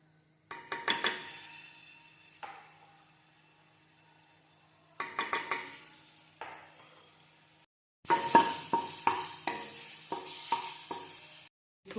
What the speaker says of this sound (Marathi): थोडंसं गरम झालं की त्याच्यामध्ये लसणाची पेस्ट टाकायची.